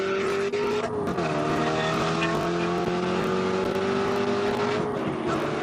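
A red Corvette race car climbing a hill on a racing circuit, its engine droning loud and steady with rising and falling pitch as it works through the gears, other cars faintly audible.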